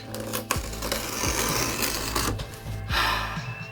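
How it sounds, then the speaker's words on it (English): A small, sharp flathead screwdriver pries and scrapes at a product package holding skateboard wheels, making close, continuous rasping and scratching with a few sharp clicks and snaps, loud and steady with no talk. "I'm using a baby flathead screwdriver to open this"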